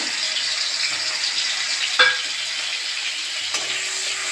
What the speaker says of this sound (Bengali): চিংড়ি মাছটা আমি ভাজা করে নেব, তেলের উপরে দিয়ে দেবো।